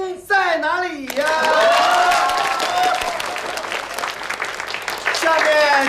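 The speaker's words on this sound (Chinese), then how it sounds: "掌声在哪里呀？" Wedding guests applaud loudly at a banquet, a dense, sustained clapping that swells right after a raised voice and carries on with crowd voices mixed in.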